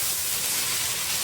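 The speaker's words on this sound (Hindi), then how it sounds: "और इसके साथ मैं इसको 1 से 2 मिनट तक फ्राई करूँगी।" Masala chicken frying in a pan gives off a steady, loud, hissing sizzle that goes on without a break and without any talking.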